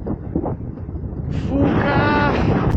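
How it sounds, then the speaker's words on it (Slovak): Strong wind roars across an open high mountain slope near an alpine tarn, a dense, steady buffeting rush close to the microphone that swells louder partway through and keeps blowing without pause. "Fúka! Môže tak fúkať."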